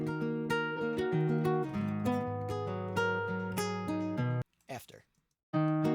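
Sustained electric guitar chords and notes ring out loud and clean, without any EQ pedal boost, then cut off briefly near the end before the playing resumes.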